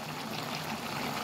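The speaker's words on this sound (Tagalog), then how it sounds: "At ngayon, lalagyan na natin siya ng gata." Coconut milk poured into simmering duck adobo made with soy sauce and vinegar, a soft continuous liquid pour and bubbling in the pan, close and gentle with no talking.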